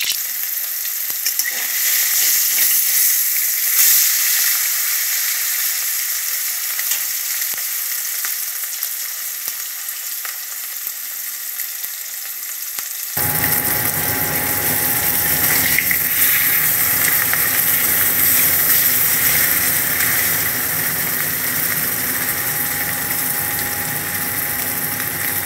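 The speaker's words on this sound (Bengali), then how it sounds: "সর্ষের তেল দেব পরিমাণ মতো। মাছটা আমি ভেজে নেব।" Fish frying in mustard oil: a quiet hiss gives way halfway through to a loud, dense, continuous sizzle that carries on steadily to the end, with no talking.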